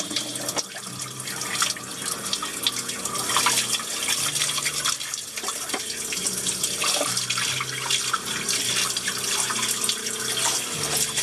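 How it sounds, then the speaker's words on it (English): Water runs steadily as a boat deck is washed down into its drain, a constant close splashing flow with faint dripping, no talk over it. "All of this will just wash down into the drain. It just runs to the bilge, and the bilge will pump it out overboard."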